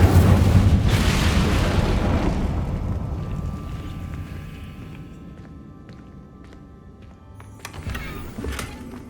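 A fiery whoosh and rumbling blast from the Incendio fire spell in Hogwarts Legacy, loud at the start and fading over several seconds, with a few small crackles and a brief burst near the end.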